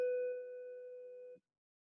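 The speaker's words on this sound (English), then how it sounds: "that's a bell over here at A2 Steam" A single bell rings once at A2 Steam with a clear, pure tone that hangs for over a second before stopping abruptly, alone in a quiet room.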